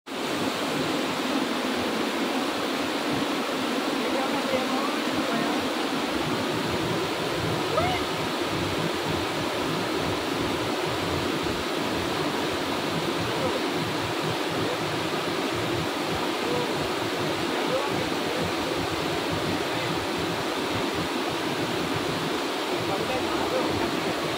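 Steady roar of rushing water at Magajahalli Abbi Falls near Sakleshpur, Karnataka, a dense continuous broadband wash heard close and loud throughout with no break.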